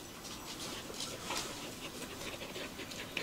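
A white fluffy Bac Ha dog, a Vietnamese native breed, pants in quick steady breaths close by, a continuous airy huffing with no talking over it.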